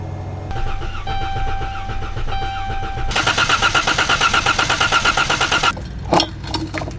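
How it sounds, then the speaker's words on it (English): A minivan engine cranks over with its ignition coils unplugged, the starter churning in a steady rapid rhythm for a few seconds before cutting off, preceded by a faint tone and followed by a few sharp clicks. "I'm going to crank it over with the coils unplugged and see if my decapped injector even works"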